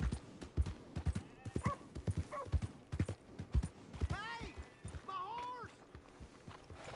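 Horse hooves clip-clop in Red Dead Redemption 2, a run of sharp, fairly close hoofbeats mixed with game sounds and a whinny-like call, while someone talks over the action.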